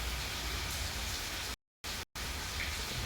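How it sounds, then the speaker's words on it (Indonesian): Rain falling steadily in Bekasi, a dense, even hiss of close drops that breaks off in two brief complete silences midway before resuming just as before. "kondisinya tuh hujan"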